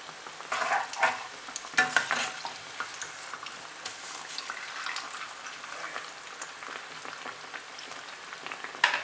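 Bread bajji frying in very hot oil gives a steady soft sizzle and crackle, with a few brighter spatters near the start, close but fairly quiet and without talk.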